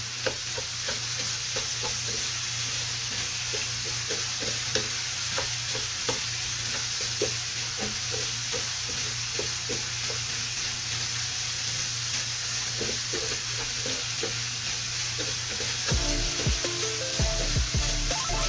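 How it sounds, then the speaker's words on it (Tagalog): Tomatoes go into sizzling igado, a Filipino pork-and-liver dish, in a pan, with a steady loud frying hiss throughout and frequent stirring scrapes and clinks of a utensil against the pan. "Lagay na natin yung kamatis mga Koblaks para matunaw"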